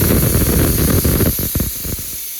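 A pressure cooker on a gas stove releases steam while cooking idichakka, a loud continuous hiss that breaks into choppy sputtering bursts near the end before fading.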